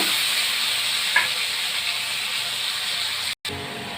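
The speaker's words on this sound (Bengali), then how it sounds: "আমি আলুটা একটু লাল করে ভেজে নেব।" Potatoes fry in a pan with a steady, bright sizzling hiss that lasts throughout, broken by one soft clink near the middle and a brief dropout near the end.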